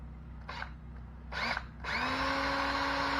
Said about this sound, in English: got your two hook hangers nice and drilled out